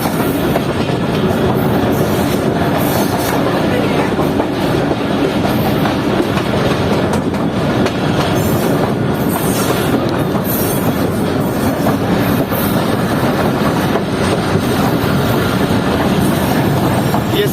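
Mohen Jo Daro passenger train pulling into Sindh University station at Jamshoro, with steady loud rumble and rhythmic clickety-clack of wheels over rail joints, faint brake squeal, and crowd noise from a busy platform throughout.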